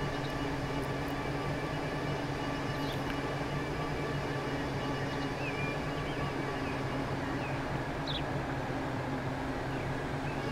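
Train rolling through a station in the simulation game Transport Fever 2, a steady rumbling drone with rail hum that holds even and continuous throughout, with no voices over it.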